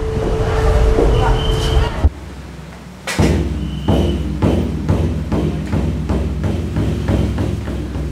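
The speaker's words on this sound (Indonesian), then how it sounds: "Dentuman genderang dari dalam kelenteng bukan sekedar suara, tapi merupakan panggilan untuk memulai ritual." Deep booming temple drum strikes thud repeatedly in a loose rhythm inside a Chinese temple in Pontianak, close and loud, with a ringing tone and background noise at the start.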